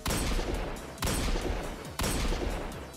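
A custom hand cannon in Destiny 2 fires three heavy shots, one per second in an even rhythm, each a loud close boom with a long ringing tail.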